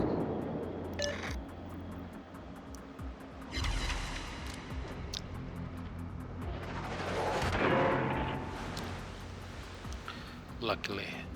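Naval gunfire in the World of Warships game, with a heavy cruiser firing armor-piercing shells: deep booming salvos and rumbling shell impacts over a constant engine drone, loudest around the middle and late parts, with a voice talking throughout.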